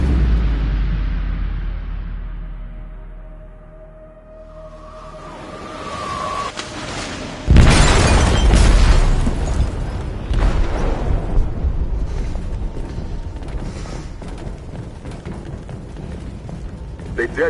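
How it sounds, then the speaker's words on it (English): In GTA V, an explosive detonates in a ship's hold, a heavy boom that bursts in after a falling rumble and leaves a long roaring, crackling tail with mechanical rattles. "They detonated an explosive in the hold."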